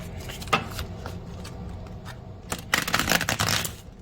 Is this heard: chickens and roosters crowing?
no